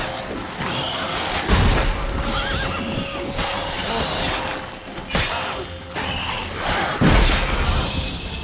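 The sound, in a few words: horse Roach neighing in video game Witcher 3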